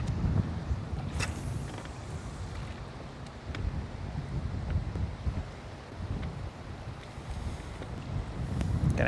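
Wind blows steadily across a lake during bass fishing, a constant low rushing buffet against the microphone with gusts rising and falling, along with faint water and boat sounds.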